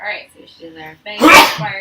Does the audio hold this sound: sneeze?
yes